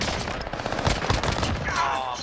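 Dense bursts of rapid gunfire from a shooter video game rattle loud and close, shots overlapping continuously for the whole short stretch.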